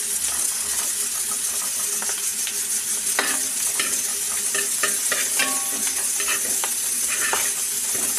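Clam meat frying in oil in a pan for a Kerala tapioca and clam dish, a steady broad sizzle with scattered clicks and scrapes of a spoon stirring, close and continuous with no talking.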